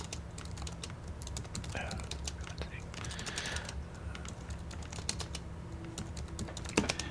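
Rapid typing on a computer keyboard, a steady patter of close key clicks over a constant hum of background noise, with faint talk in the background.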